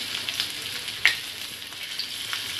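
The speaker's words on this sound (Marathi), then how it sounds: "आपण आता शॅलो फ्राय करून घेऊ। इथे मी तवा तापत ठेवला होता, तेल सुद्धा छान तापलेलं आहे।" Cabbage vadis shallow-fry in hot oil on a griddle, a steady close crackling sizzle with one sharper pop partway through.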